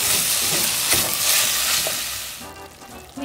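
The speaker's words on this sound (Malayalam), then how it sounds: "ഞാനിപ്പോൾ മീറ്റ് ആഡ് ചെയ്ത് നിങ്ങൾ നന്നായിട്ട് മിക്സ് ചെയ്ത്" Meat sizzling loudly in a hot pan with pepper powder while being stirred and mixed, a dense close crackle with scraping stir strokes, easing slightly toward the end.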